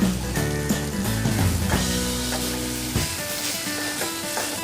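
Chicken and garlic fry with steady sizzling in a hot pan, with occasional clinks of a utensil stirring, continuous and close throughout.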